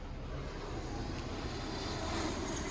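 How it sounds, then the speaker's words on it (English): An airplane passes overhead as a steady, broad engine roar that fills the whole stretch, distant and even in level. "Ooh, another plane."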